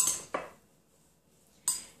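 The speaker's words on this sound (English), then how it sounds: "I'm going to just give it a little bit of a stir here." A metal spoon stirs mini marshmallows and butter in a mug, giving three sharp clinks against the sides, with quiet scraping between them and no talking.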